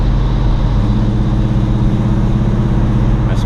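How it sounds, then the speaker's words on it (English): A 1973 Oldsmobile Hurst cruising down the road on newer tires, its engine giving a steady, loud low rumble throughout with no talking. "She drives nice and straight down the road, newer tires so it feels really smooth."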